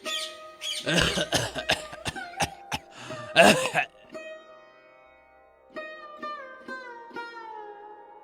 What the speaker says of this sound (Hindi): बाबा, आपको फिर से खांसी हो रही है।